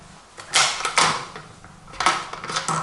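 A Winchester XPR bolt-action rifle with a large three-lug bolt being worked, giving several close, dry metallic clacks and sliding creaks in an uneven rhythm, with no one speaking.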